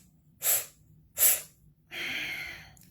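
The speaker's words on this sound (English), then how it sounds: "Inhaling through the O-shaped mouth, 4 equal strokes, but powerful, full, and then 1 exhale through the nose" Two sharp, forceful breaths drawn in through the mouth in quick succession, then one long, steady hiss of air pushed out through the nose, close and quiet, with no talking, as part of a breathing exercise.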